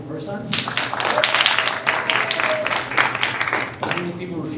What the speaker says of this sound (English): A show of applause, how many people are here for the first time?